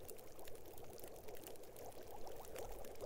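Water pours in the survival video game The Long Dark, a steady close, loud gushing stream lasting a few seconds with no talk over it.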